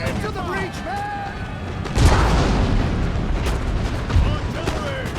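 Artillery fire on a battlefield, deep booms and blasts rumbling under a dense wash of battle noise, with a heavy thump near the two-second mark and another later, while voices shout over the din.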